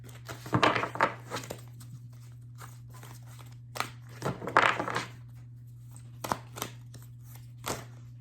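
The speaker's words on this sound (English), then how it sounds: "These are really big, so I'm going to try to like shuffle them a little, and then we're going to maybe just cut the deck." Large coaching cards are shuffled and the deck is cut, giving soft papery riffles and slaps in two main bursts followed by a few sharp, separate taps, close by over a steady low hum, with no talking.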